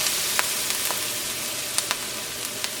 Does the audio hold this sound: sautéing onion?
yes